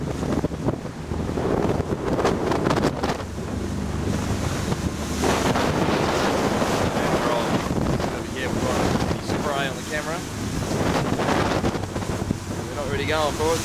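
A fishing boat racing in a black marlin tournament off Lizard Island rushes across open water with heavy wind buffeting the microphone and waves splashing; faint voices shout now and then beneath the roar.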